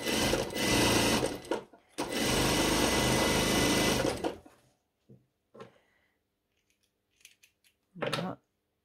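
Domestic sewing machine stitching the side seam of a long dress in two close, loud bursts of steady whirring, one brief and one about two seconds long, followed by faint handling clicks and a short final burst.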